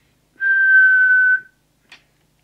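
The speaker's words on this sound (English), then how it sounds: "What we will do is the whistle test." A single steady, pure whistled tone into a Jesan 88 900 CB base station microphone for transmit alignment, held about a second, loud and close, followed by a brief click.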